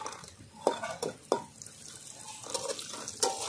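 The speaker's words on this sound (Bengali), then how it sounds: "তেল গরম হয়ে গেছে, বড়িগুলো আমি হালকা করে ভেজে নেব।" Lentil dumplings (bori) fry lightly in hot oil with soft sizzling, broken by a few sharp clinks and scrapes of a utensil against the pan. The sound is faint and fairly quiet overall.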